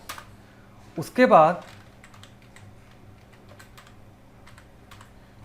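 Computer keyboard typing while entering vouchers in Tally ERP accounting software, a few light key taps scattered behind a brief spoken Hindi phrase and a quiet steady hum.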